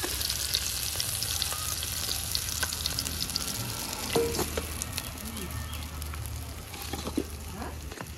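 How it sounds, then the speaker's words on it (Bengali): Fish frying in an oil-filled pan, a steady close sizzle and crackle throughout with occasional stirring scrapes and small pops. "মাছ লাল লাল করে ভেজে নিয়েছি। এবার এইগুলো নামিয়ে বাকিগুলোও দিয়ে দেব।"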